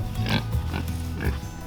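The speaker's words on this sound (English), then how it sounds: "All right, guinea hogs. How are you doing, fuzzy pigs?" Fuzzy guinea hogs give a few low, close grunts and snorts in quick succession, with a little farmyard background.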